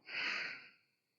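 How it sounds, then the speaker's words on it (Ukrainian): A single full exhale from the belly during yoga breathing practice, a soft breathy rush of air that swells quickly, holds briefly, then tapers to silence over about a second, close and fairly quiet. "І тепер повний видих від живота."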